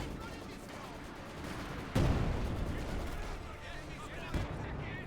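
Field gun artillery bombardment in the video game Company of Heroes 2, a loud blast landing over constant battle noise and gunfire, with a second thump shortly after and a commentator talking throughout.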